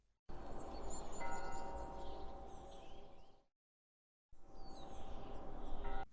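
Bells ring in a dense, sustained wash with a short silent gap, then ring on again, steady and fairly faint.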